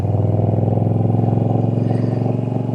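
A Moto Guzzi V7 motorcycle engine runs steadily close by, a loud, even, throbbing idle with a rapid pulsing rhythm and no voices.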